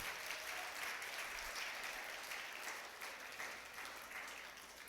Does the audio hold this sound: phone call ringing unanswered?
no